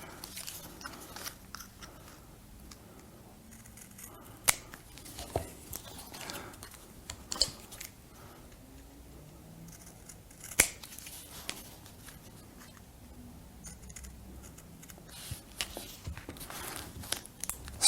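Scissors snipping small card tabs off flat pack parts, a series of quiet close crisp cuts and light paper handling at an irregular pace, with no talking.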